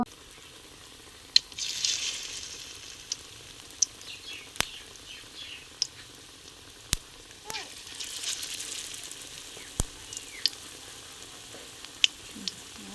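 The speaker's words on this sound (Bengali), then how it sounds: "একটা কড়াইয়ে তেল গরম হয়ে আসলে এক একটা একটা করে দিয়ে দিব" Food fries quietly in hot oil in a wok, broken by sharp clicks and taps from utensils, with faint bird chirps in the background.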